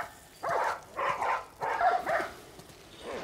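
Dogs bark in The Last of Us, inside the quarantine zone. Four loud, close barks come in a quick, uneven series, and a fainter fifth trails off at the end.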